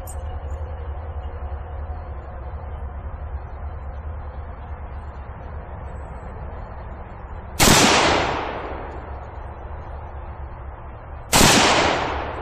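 AK rifle fired while testing a magazine, two loud single shots several seconds apart with ringing echo decaying after each, over a steady outdoor background rumble.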